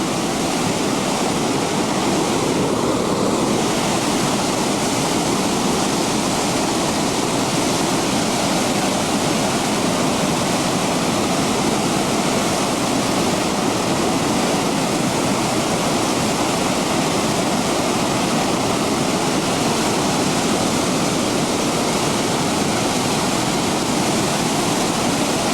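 Waterfall and rushing muddy river water at Great Falls roar in a loud, steady, unbroken wash for the whole stretch, with no voices.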